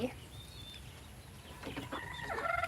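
A chicken clucks a few times at a distance outdoors, faint and brief under low background noise.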